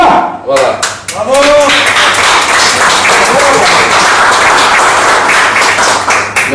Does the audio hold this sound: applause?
yes